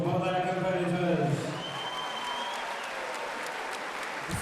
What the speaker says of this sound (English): a big round of applause for both our competitors